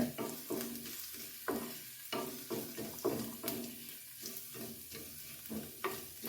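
Crushed paste fries and is stirred in a pan for Kerala egg-pappadam curry, a soft steady sizzle broken by repeated scraping strokes of a spoon at an uneven rhythm, close and alone with no talk.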